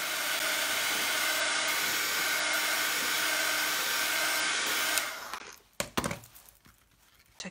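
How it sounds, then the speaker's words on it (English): A heat gun blows a steady, loud hiss while drying a mixed media art surface, then cuts off abruptly, followed by a few faint clatters and handling sounds. "So we will take the heat gun and dry the surface first."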